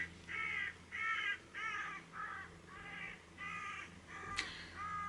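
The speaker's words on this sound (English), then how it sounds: "Don't know if you can hear the birds, they're having a fight on my roof right now." Several crows fighting on a roof caw harshly in repeated bursts, loud and fairly close, with short pauses between calls and a low steady hum underneath.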